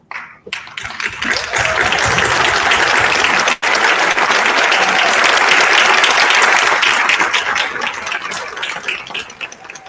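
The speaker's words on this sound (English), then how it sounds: "join me in applauding those who supported you" A large graduation crowd at a college commencement ceremony bursts into loud, sustained applause after a brief pause, the dense clapping swelling and holding for several seconds before tapering slightly toward the end.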